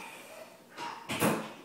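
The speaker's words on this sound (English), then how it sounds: "My wife's running around slamming doors." Doors slammed inside a house, two muffled thumping bangs in quick succession at moderate distance, the second louder, over quiet room tone.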